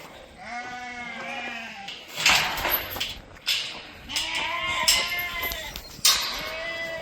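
Goats on a farm at weaning time bleat repeatedly, several loud, wavering calls overlapping at close range with some clatter and handling noise between them.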